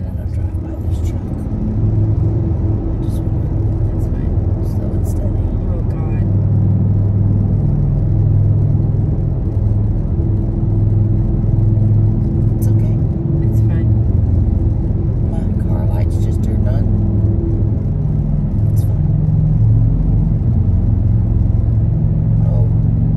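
Steady, loud low rumble of a car on the road heard from inside as it drives past a truck, with the engine droning continuously and occasional light clicks and rattles.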